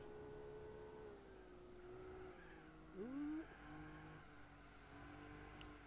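Race cars in the video game Gran Turismo 4 drone steadily in the distance, with engine tones rising and falling and a brief louder revving swell in the middle.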